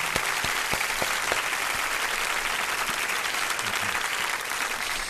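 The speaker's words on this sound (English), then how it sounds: "let me give you a first time appearance round of applause." A studio audience on a podcast gives a guest a steady round of applause, dense continuous clapping with a few sharp claps standing out at the start.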